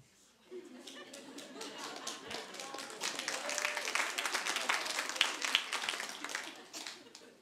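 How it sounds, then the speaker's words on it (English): A church congregation breaks into scattered clapping and some laughter after a guest speaker's story, building from quiet to a moderate, uneven applause with voices mixed in. "Save your applause, I wasn't happy about it."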